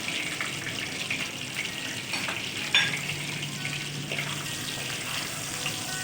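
Desi garlic frying in hot oil for tomato chutney, a steady close sizzle and crackle running throughout, with a brief clatter partway through and no one talking.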